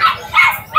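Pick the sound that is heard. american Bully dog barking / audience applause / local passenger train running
american Bully dog barking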